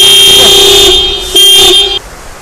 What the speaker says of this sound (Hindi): तो हॉर्न इसका बज चुका है